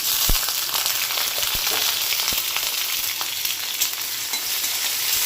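Diced potatoes with white cumin fry in hot oil, giving a steady crackling sizzle with occasional sharp pops and spatters, close and continuous with no talking.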